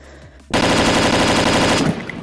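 Sustained burst of rapid automatic gunfire in a Gorilla Tag fan-made video game, loud and dense for about a second and a half after a quiet start, then cutting off.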